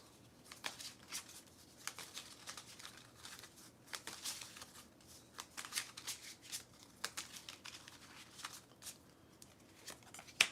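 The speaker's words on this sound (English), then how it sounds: "Shuffle, shuffle, shuffle" Repeated crisp riffling of a deck of cards being shuffled, bursts of flicking in quick succession, close and fairly quiet.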